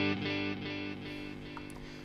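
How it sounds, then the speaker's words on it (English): An electric guitar on its neck pickup runs through a Boss DD-500 hi-fi delay, ringing with a clean, sustained chord whose fading repeats trail off quietly and smoothly, with a few faint high plinks near the end. "the hi-fi delay, which is their standard kind of high resolution delay"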